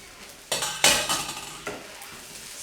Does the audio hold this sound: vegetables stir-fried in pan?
yes